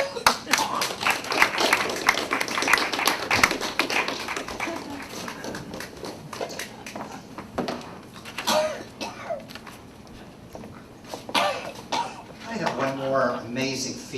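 Onlookers at a street magic show break into bursts of clapping that rise and fade, with a voice cutting in near the end.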